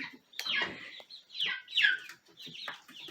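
A hen clucks in a backyard flock, several short squawking bursts with gaps between, close and clear with no talking.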